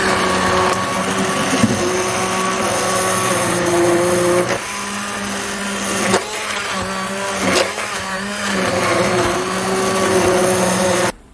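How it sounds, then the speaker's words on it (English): An immersion blender purees sweet potato bisque in a pot, a steady loud motorized whir that runs almost continuously with brief dips in pitch and load, cutting off abruptly at the end. "Now it's time for the immersion blender."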